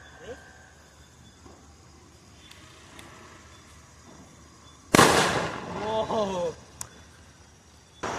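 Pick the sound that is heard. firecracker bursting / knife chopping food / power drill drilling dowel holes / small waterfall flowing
firecracker bursting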